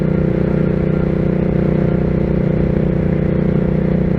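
A Hyosung GV650 motorcycle fitted with a Ducati exhaust drones steadily while riding, a loud, constant low engine rumble with no pauses or gear changes.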